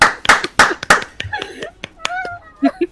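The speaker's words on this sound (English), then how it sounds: "Let's give Snow some encouraging round of applause" A few people clap for Snow at a podcast taping, a quick burst of sharp, close claps in the opening second, followed by voices talking and a little laughter.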